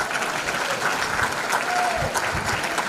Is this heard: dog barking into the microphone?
no